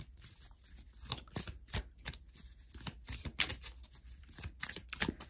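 Tarot cards are shuffled and drawn by hand close up, making a run of quick, crisp riffling and slapping bursts with short pauses between them. No one speaks.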